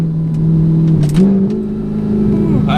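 A car with a $7000 titanium exhaust and its valves open revs hard, a loud, close engine drone that climbs in pitch partway through and holds steady with a raspy edge.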